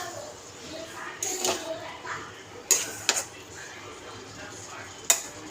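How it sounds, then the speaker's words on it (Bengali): Stirring banana flower curry (mochar tarkari) in a pan: a few sharp spoon-on-metal clinks and scrapes at irregular intervals over a quiet kitchen background, fairly close, with no talking. "তো এবারে আমি এরকম করে নাড়িয়ে দেবো।"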